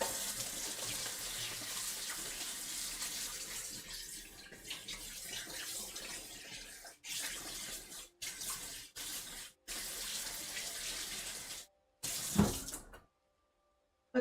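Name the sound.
washing hands under a running tap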